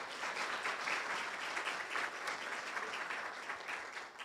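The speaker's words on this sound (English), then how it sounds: "So let's give a round of applause to the graduate students as well." An audience at an early childhood conference gives steady applause for graduate students, a soft continuous patter of many hands heard from a distance that fades slightly at the close.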